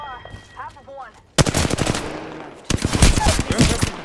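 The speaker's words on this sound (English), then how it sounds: "Ебать, он стреляет." Rapid bursts of automatic gunfire from an enemy in the Apex Legends video game, loud and close, crackling in two dense volleys after a quieter stretch with game sounds.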